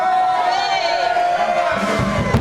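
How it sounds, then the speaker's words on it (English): A crowd at a live music show cheers and whoops in a loud wash of voices, with a few raised shouts and a swelling roar near the end. "I'd save your applause till afterwards, you might not want to do that."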